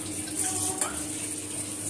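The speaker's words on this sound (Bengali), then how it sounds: "একটু পানি দিতে" Water poured into a pot of milk for Bengali payesh, a steady close gush and trickle that runs unbroken over the two seconds with no voices.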